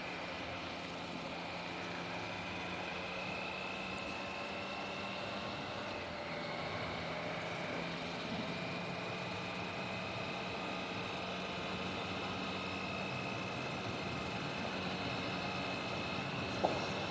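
A car engine hums low and steady while cruising in fifth gear at about 40 mph, a continuous faint drone with tonal whine and road noise throughout.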